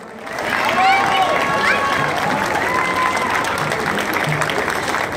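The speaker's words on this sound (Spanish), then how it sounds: "Ahí les damos el aplauso para despedirnos." Audience applause breaks out as a band finishes its currulao performance at a public event in Linares, a dense, steady clapping that swells quickly, carries loud and close with some cheering, and continues for several seconds.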